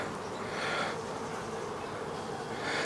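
Honey bees buzz steadily during a hive inspection, a dense close drone of many wings that swells and fades slightly, with no voices.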